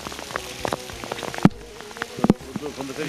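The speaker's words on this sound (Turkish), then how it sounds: "Bak buraya dolu yağıyor, karşıda güneş var." Hail falling outdoors near Gürgentepe in Ordu, Turkey, patters as an irregular scatter of light taps, with two or three louder, sharper hits standing out.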